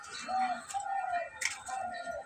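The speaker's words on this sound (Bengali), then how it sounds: "গুগু পাখি ডাকতেছে কি সুন্দর শব্দ শোনা" A dove coos softly a few times in a quiet outdoor setting near a small village pond, faint and somewhat distant.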